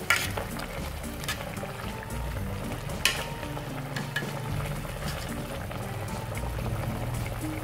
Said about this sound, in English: now boiling water, and you can see in the video here